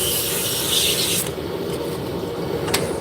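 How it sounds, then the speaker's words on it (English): A wooden taper is sanded on a running wood lathe, a continuous close hiss of abrasive rubbing over the spinning wood's hum, bright and harsh at first and then softer after about a second, with no talking. "Going to sand the taper"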